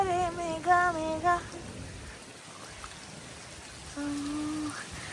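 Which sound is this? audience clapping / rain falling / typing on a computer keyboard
rain falling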